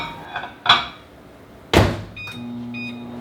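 A microwave door clunks shut, buttons beep, and then the oven starts, heating chocolate, with a steady low hum running to the end.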